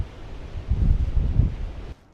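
Gusty wind buffets an outdoor farm field where pollinator plots are being planted, a steady low rumble of microphone wind noise swelling louder mid-gust, then dropping away abruptly at the end.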